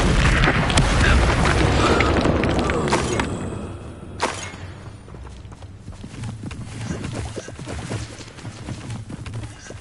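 A fire spell cast in Hogwarts Legacy bursts out as a loud, dense whoosh and crackle at the start, fading after a few seconds. A sharp impact follows, then lighter scattered game sounds and movement continue underneath.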